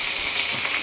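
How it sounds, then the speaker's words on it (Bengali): Onion dropped into hot oil already frying fish gives a steady, close, loud sizzling hiss with no pauses, alone. "ওই যে তেলে মাছ রয়েছে সেই তেলেই দিয়ে দেবো পেঁয়াজ"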